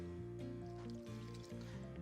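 Water pours into a bowl of gluten-free pancake batter that already holds dry ingredients and eggs. The quiet liquid trickle lasts briefly and sits beneath steady background music.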